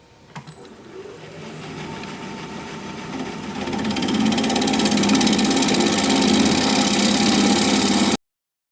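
A wood lathe turning a workpiece at 1,000 RPM gives a steady mechanical drone that swells louder midway, holds, and then stops abruptly.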